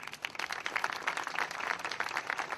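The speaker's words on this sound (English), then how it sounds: "let's give you a round of applause" A crowd at a press conference for the MLK Memorial Foundation gives a round of applause. The clapping is dense and fairly distant, holding at an even level throughout.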